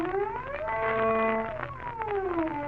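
Cello glissando played with the finger pressed firmly on the string, a smooth sliding tone rising and falling in pitch, alone and sustained.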